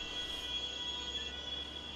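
A train pulling away in Train Sim World 3 at Dresden Hauptbahnhof, its wheels giving a sustained high squeal over a low rolling rumble, steady and fairly close, no voices.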